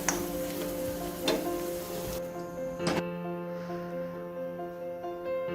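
A hot tempering is stirred into cooked jackfruit and coconut for Kerala chakka puzhukku, giving a soft sizzle with a few sharp scraping clicks of the spoon against the pan. A steady background hum runs underneath.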